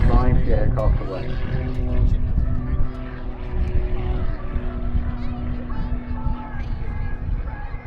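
A Pitts Special muscle biplane climbs away during an aerobatic display at the Southport Airshow 2022, its propeller engine droning steadily under continuous commentary and crowd noise.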